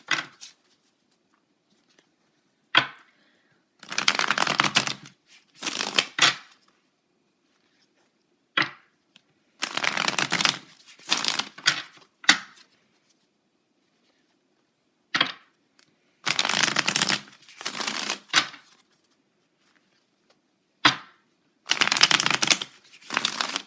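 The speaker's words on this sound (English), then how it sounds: "Now what I'm going to do is I'm going to pull 3 cards" A deck of tarot cards is shuffled by hand in several bursts of riffling and flicking, close and crisp, separated by short silences and single soft taps.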